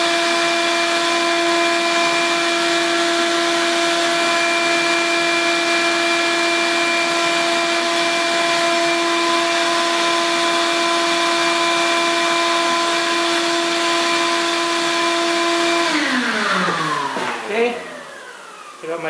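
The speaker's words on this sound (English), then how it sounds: "I'm gonna turn on my shop vac and powder coat this baby." Shop vac running steadily during powder coating of small parts, a loud sustained motor whine with a constant pitch that winds down near the end as the machine is switched off.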